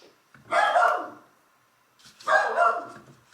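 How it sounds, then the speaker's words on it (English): A dog indoors barks out a window twice, two short separate barks about two seconds apart, fairly near, with quiet between them. "There's my dog barking out the window."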